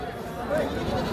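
A goat at the Rashin goat market gives a short wavering bleat amid market bustle, with people talking nearby.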